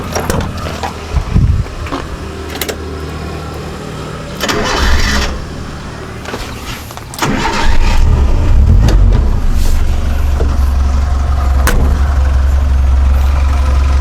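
A 1996 Suzuki Katana's 1000cc F10A engine cranks and catches partway through, then settles into a steady, close, rumbling idle.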